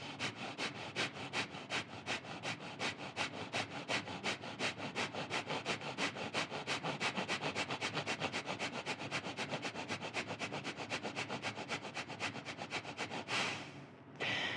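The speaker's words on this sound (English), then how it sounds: "inhale, breath of fire." Rapid yogic breath of fire, bellows-style breathing, with a fast, even train of sharp nasal exhalations pulsing steadily for about thirteen seconds, close and clear, then stopping with a final breath.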